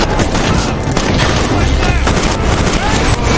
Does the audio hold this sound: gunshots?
yes